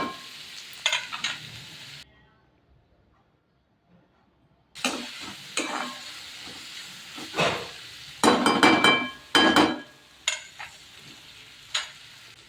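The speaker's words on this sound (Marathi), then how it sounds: "आता टोमॅटो पण चांगलं शिजवून घ्यायचं याच्यामध्ये टोमॅटो चांगलं म्हणजे असं चांगलं परतूनच घ्यायचं" Tomatoes sauté in a pan with intermittent bursts of sizzling and stirring scrapes, broken by a few seconds of near silence, the frying sounds close and moderately loud.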